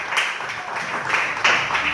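A church congregation bursts into applause, a short, dense patter of many hands clapping at once, with the clapping swelling slightly toward the end.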